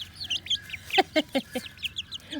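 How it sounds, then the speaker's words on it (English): Pet ducks or fowl, named Ash and Daffy, give a rapid series of nasal calls, eight or so evenly spaced honks over a bed of higher chirps from other birds, close and fairly loud with no talk. "More birds."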